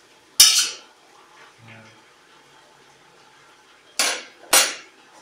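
A utensil scraping and clanking against a pot of Kyrgyz plov simmering on low heat, with three sharp metallic strikes and a faint thud between, no talk.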